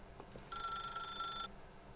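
A telephone rings once in The Stanley Parable, a bright electronic trill lasting about a second over a faint game ambience, clear and close.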